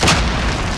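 A single loud, close boom in Call of Duty Warzone, a deep heavy blast that fills the moment and rumbles out over less than a second.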